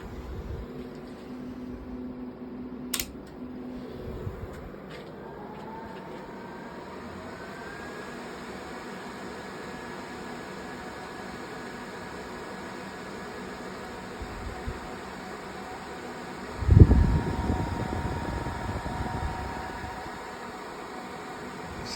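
A Bitmain L7 crypto miner runs with its cooling fans producing a steady, loud broadband whir that holds constant throughout, with a brief thump near the end.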